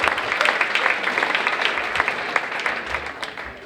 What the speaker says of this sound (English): Let's give Summers Elementary a round of applause